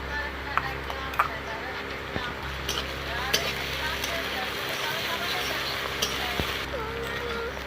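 Onion with green chili, ginger and garlic paste sizzles steadily in a pan of cumin-tempered oil for a fish-head rice dish, with scattered clinks of stirring throughout.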